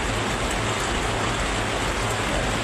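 Heavy rain pours steadily during a thunderstorm and flooding, a dense continuous hiss of water drumming on surfaces with a low rumble underneath.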